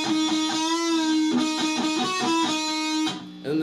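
An electric guitar plays a solo slowly, clear sustained melodic notes in a steady phrase, close and fairly quiet, alone with no talking.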